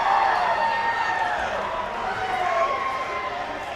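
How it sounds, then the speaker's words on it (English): Hockey arena crowd roaring after the deciding Game 5 series-final win, a steady loud wash of cheering and shouting throughout with a commentator's voice carrying over it. "And listen to that crowd. They love it. They're pumped."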